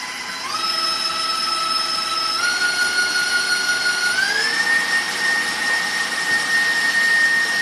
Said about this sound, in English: So let's try the whisk.